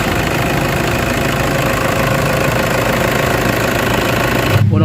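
A Toyota Hilux engine running after a throttle and turbo low-power fault was repaired, a loud, steady, close mechanical drone with dense rumble that cuts off sharply at the end.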